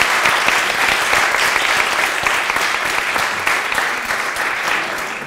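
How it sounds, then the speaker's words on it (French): An audience applauds the jurors at the close of a mock trial of Toussaint Louverture, loud, dense clapping that continues steadily and eases slightly toward the end, with no speech over it. "je pense qu'on peut applaudir d'abord nos jurés"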